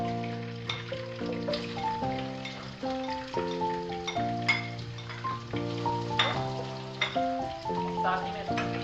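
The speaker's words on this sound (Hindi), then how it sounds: "अब हम इसके अंदर अनियन डालेंगे," Onions sizzle in hot oil in a pan for aloo matar, a soft continuous crackle that sits under steady melodic background music, with no talk.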